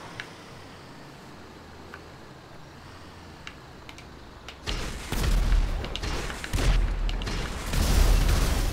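Rapid missile launches from a weaponized vehicle in the video game GTA 5 burst in after a quiet stretch, a dense run of loud booming blasts and whooshes that keeps going to the end.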